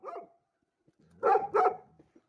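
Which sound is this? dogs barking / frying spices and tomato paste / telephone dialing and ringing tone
dogs barking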